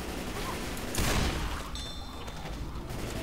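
Gunfire in the video game Left 4 Dead 2, a dense burst of rapid shots with one louder blast standing out amid steady noisy game action.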